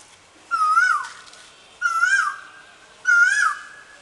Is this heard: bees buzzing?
no